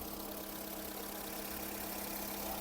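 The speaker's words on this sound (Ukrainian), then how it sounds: "Робота двигуна." A Volkswagen Golf 5 engine idles in a steady, even hum with a faint rhythmic ticking, close and constant for the whole short stretch, with no talking.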